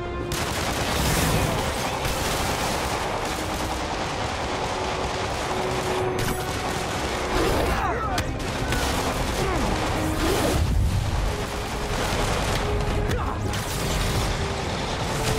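Gunfire in Marvel's Spider-Man near a fuel tanker, dense bursts of shots crackling over a loud, busy battle din of engines and crashes that runs steadily throughout.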